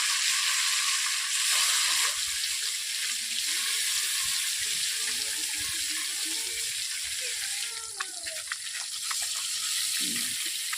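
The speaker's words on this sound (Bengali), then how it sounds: "মাছগুলো আমার ভাজা হয়ে গেছে" Pieces of pond-raised rui fish frying in oil in a kadai give a steady, loud sizzle throughout, with faint scraping and turning movements near the end.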